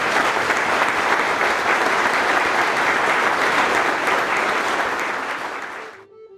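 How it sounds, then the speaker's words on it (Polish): Loud, dense applause from a standing audience honouring award laureates at an anniversary ceremony of the International Youth Meeting House in Oświęcim, holding steady for about six seconds before quickly dying away. "Częściste brawa dla laureatów."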